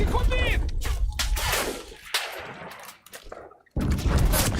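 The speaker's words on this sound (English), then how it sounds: "An artillery strike exactly over at that place?" Artillery fire and explosions in a video game, a dense run of loud booming blasts and gunfire that drops briefly near the end before another heavy impact hits, with a voice faintly mixed in.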